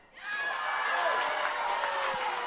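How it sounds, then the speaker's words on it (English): Crowd at a high school softball game, Broken Arrow versus Norman North, cheering and whooping after a called ball, a sustained bright roar of many voices that swells quickly and holds steady, fairly close. "Crowd is happy about that."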